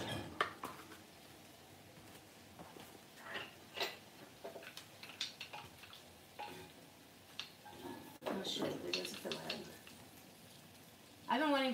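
Fiddlehead ferns are stirred in a pan, giving soft scraping, clinking and faint sizzling in scattered bursts, quiet overall, with a person talking nearby.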